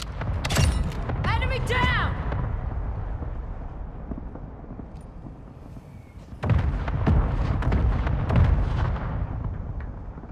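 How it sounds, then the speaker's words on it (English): Mortar strikes land in a military shooter game as heavy booming explosions with rumbling tails, one burst early and another strong barrage later, mixed with gunfire and shouted radio chatter from several voices. "Mortar support incoming! Copy that. Mortar strike it."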